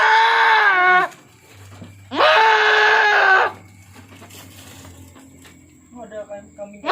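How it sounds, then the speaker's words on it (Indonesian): A goat bleats twice, loud and close, each cry long and wavering, with quieter farm background and a fainter bleat toward the end. "Ada kambing."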